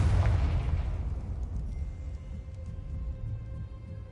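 A Confringo fire spell in Hogwarts Legacy lands with a deep booming blast that rumbles and slowly fades, a single heavy explosion heard alone.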